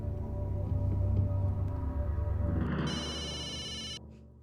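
A telephone ringtone starts as a call is placed, a steady electronic ring rising over a background hum and ending abruptly, no voices.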